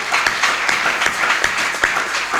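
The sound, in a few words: congregation applauding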